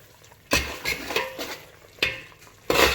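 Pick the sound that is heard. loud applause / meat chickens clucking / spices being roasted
spices being roasted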